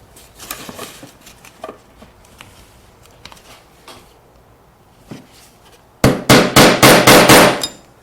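A hammer taps utility knife blades into wood: scattered light clicks and knocks early on, then a close, loud run of about seven sharp metallic strikes in quick, even rhythm at the end.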